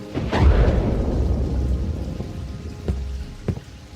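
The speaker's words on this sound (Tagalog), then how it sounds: "Mabuti naman at hindi kayo nagpapigil sa lakas ng ulan, Mang Nanding." Heavy nighttime rain pours down in a loud, dense rush that swells early and then eases slightly, with a few sharp drips or knocks near the end and no talking.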